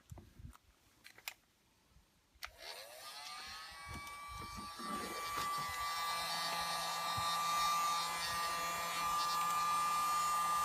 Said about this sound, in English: Of course, being a heat gun, it's hot, so it goes opaque when you've done a proper seal.